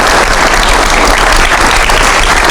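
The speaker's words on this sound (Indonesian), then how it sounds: "Kasih tepuk tangan dulu dong." An audience claps loudly and continuously throughout, a dense, even wall of applause with no pauses and no voices standing out.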